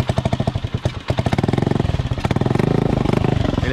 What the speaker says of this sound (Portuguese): Falou que o carburador não tava muito bom, galera. É, não tá bom mesmo, ele tá falhando.